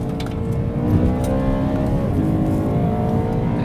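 A BMW E92 M3 engine revs hard from inside the car, a loud, rising, harmonic-rich howl climbing steadily and then easing briefly, with no talk over it.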